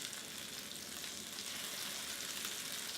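Curry paste sautés in hot oil, a soft, steady sizzling crackle that stays even and fairly quiet throughout, with no voices.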